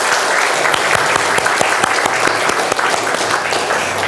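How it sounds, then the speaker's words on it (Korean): A church congregation claps for the choir in steady, dense applause that stays even and moderately loud throughout the few seconds. "우리 감사의 박수를 성가대에게 드리겠습니다"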